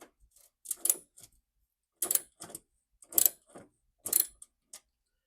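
A Gator Grip universal socket ratchets to loosen a bolt in a garage, several short bursts of quick clicking strokes separated by pauses, close and crisp.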